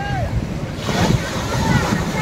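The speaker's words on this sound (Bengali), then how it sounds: "আর দেখো ঢেউটা কত বড় আসছে" Sea waves break and wash onto the shore at Digha, close to the listener, with wind buffeting the microphone and voices in the background.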